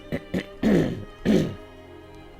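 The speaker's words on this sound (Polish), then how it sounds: "muszę sobie kaszlnąć" A man clears his throat in several short, harsh bursts, two brief rasps followed by two longer, louder throaty rumbles, close to the microphone, then quiet.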